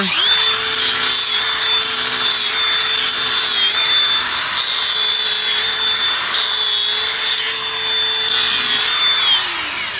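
A farrier's rasp works steadily across a horse's hoof, rounding the toe during a trim, producing a loud, continuous scraping with long even strokes and brief pauses, close up with no talking.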